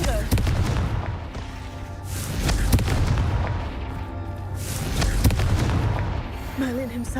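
In a Harry Potter video game, Confringo fire spells set off a series of loud booming blasts, one after another over a steady rumble of game sound.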